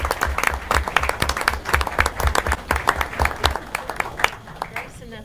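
Audience applause at a community meeting, a dense, steady clapping from a sizeable crowd close by, with cheering voices and chatter mixed in before it thins out near the end.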